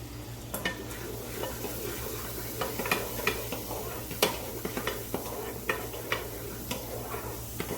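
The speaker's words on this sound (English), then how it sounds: "the smell of garlic cooking in butter is the best thing on the planet" Garlic cooks in butter in a pan with a gentle continuous sizzle, broken by scattered light taps and stirring knocks from a spoon.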